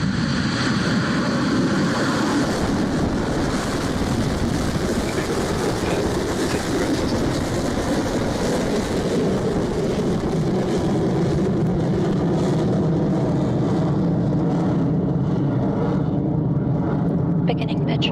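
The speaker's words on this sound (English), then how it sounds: "Ignition." Rocket Lab Electron rocket lifting off from Launch Complex 1 at Mahia, New Zealand: a loud, steady, broadband engine roar that stays continuous for the whole stretch, heard without voices.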